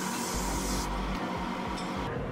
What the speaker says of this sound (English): I use my Evian facial spray and I just put that all over my face